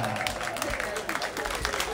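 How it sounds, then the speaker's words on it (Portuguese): An audience claps for Vera, a mother-to-be, at a reunion event; the brief, steady patter of hands stays mostly under a speaking voice. "Uma salva de palmas para a Vera!"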